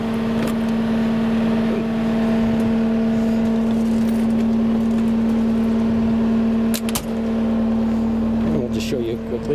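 A CAT 262D skid steer runs at a steady idle with a strong constant engine drone, while its auxiliary hydraulics whine and shift in pitch near the end, close and loud throughout.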